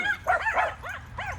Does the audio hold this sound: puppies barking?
yes